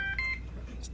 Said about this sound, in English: That's my phone messing up.